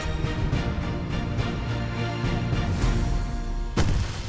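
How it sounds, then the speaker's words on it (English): Fireworks go off in Alan Wake as a dense, continuous barrage of booms and crackling bursts, with a sharp loud bang near the end, and no talk over it. "I can set off more of the fireworks from here and help you out!"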